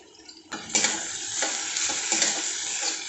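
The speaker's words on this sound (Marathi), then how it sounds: "कढीपत्ता स्वच्छ धुवून घेतलेला आहे तो सुद्धा यात टाकून घेऊ" Washed curry leaves dropped into hot oil with onion, tomato and chillies for masale bhaat, a sudden loud crackling sizzle that holds steady with spoon stirring.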